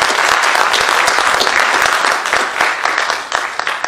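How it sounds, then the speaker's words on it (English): Sustained applause from a standing crowd at a district spelling bee, a dense wash of many hands clapping at once, loud and steady throughout, easing slightly near the end. "Let's give them a big round of applause."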